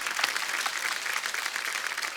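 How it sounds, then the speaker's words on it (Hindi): A studio audience claps enthusiastically for two guests being welcomed on stage, a dense burst of applause filling the room at moderate level throughout the short moment. "एक बार जोरदार तालियां रवि भैया और मनोज भैया के लिए।"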